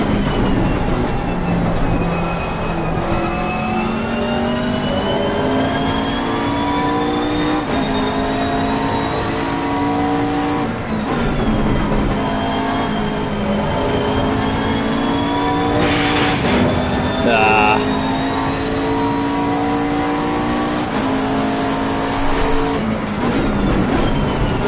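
McLaren race car lapping Zolder in Assetto Corsa Competizione, a loud close engine note rising through the gears with repeated upshifts and downshifts, steady and without pause for the whole run.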